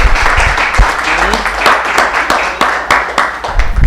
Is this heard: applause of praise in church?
yes